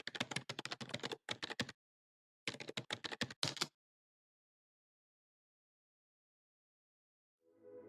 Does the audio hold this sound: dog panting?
no